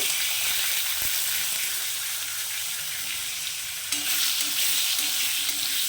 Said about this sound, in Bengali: একই তেলের মধ্যে প্রথমে আমি আলুগুলোকে ভেজে নেব